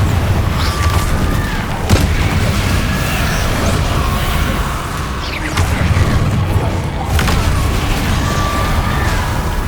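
Confringo spell explosions in the Hogwarts Legacy video game roll out as a dense, continuous barrage of booming blasts and crackling bursts, loud and sustained, with brief sharper impacts standing out now and then.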